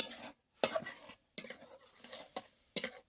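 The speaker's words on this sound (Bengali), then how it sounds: "আমি অনবরত দুধটা নেড়েই যাবে।" Milk stirred continuously in a pan for gadla bhaja, heard as four or five separate scraping strokes of a utensil against the pan, close and fairly soft, with short silent gaps between.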